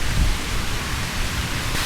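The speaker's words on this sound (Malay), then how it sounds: "Hujan." Steady rain falls on a mall outing in Putrajaya, a dense, even hiss that fills the space with low rumbling underneath and no voices.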